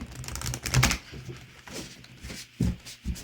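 Crisp riffling bursts of shuffled tarot cards, a quick flurry near the start and a couple of short shuffles toward the end, close by with no talking.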